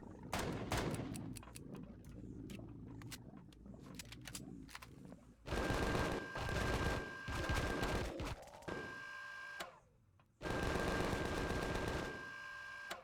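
Minigun fire in the sci-fi survival game Empyrion Galactic Survival: a rapid stream of close, loud shots, then two sustained roaring bursts separated by a brief pause.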